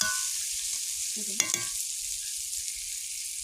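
Meat spices sizzling in a pan after potatoes were fried, a steady faint frying hiss with a brief stir and clink of a utensil near the middle, no talking.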